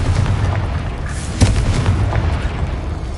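A Confringo explosive spell blast in Hogwarts Legacy, a dense booming roar that fills the whole span with a sharper burst midway through.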